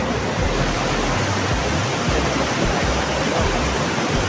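Rushing water of a mountain stream, a loud, steady broadband roar filling the whole clip with no breaks, close by and with no voices.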